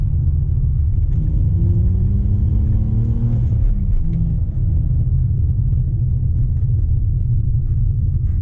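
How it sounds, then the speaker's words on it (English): A 2005 BMW 330i manual's engine rumbles loudly inside the cabin while rev matching, its pitch climbing in a quick rev, dropping, then rising again before settling into a steady drone. "Man, rev matching is fun."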